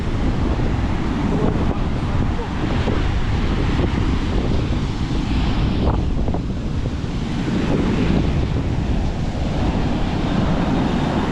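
Rough sea surf rolling in continuously, with strong wind buffeting the microphone throughout; no voices.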